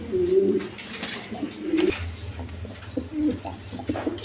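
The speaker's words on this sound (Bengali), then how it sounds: "দর্শকবৃন্দ, এখানে একটা নর কবুতর আছে" A male pigeon coos in repeated soft, throaty phrases close by, with short pauses between calls and a light background hum.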